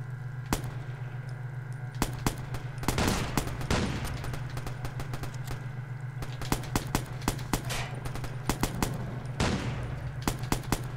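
Gunfire in the online multiplayer mode of the video game Watch Dogs, sharp shots popping out singly and in quick clusters over a steady background hum, fairly close and moderately loud.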